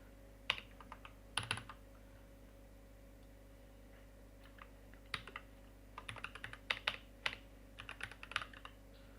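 Code is typed on a computer keyboard in quiet bursts of soft clicking keystrokes separated by pauses, over a low steady hum, with no talking.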